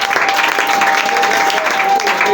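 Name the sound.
congregation applauding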